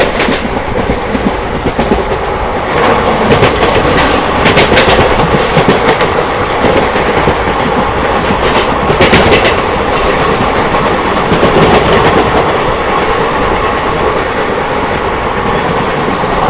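Inside a sleeper coach of the Shridham Express, the moving train gives a loud, continuous rumble with rhythmic clickety-clack of the wheels on the rails throughout.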